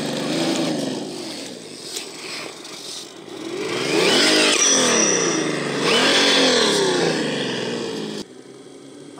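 A Capo JK Max Jeep RC scale crawler in two-wheel drive climbs a rocky backyard trail, its small electric motor whining and revving in surges that rise and fall throughout, close and fairly loud, then cutting off near the end.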